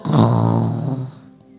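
A voice imitates snoring with one loud, drawn-out rasping snore, close to the microphone and fading toward the end.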